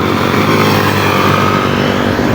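A motorcycle engine runs steadily and close by on a road trip to Manangle Falls in Sipocot, a loud continuous drone with no talking over it.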